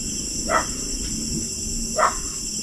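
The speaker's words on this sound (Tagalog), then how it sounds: "Galit na yung tahol ng mga aso na yan, hindi yan titigil." Dogs at a farm bark twice in quick sharp bursts, fairly near, over a steady hum of background noise.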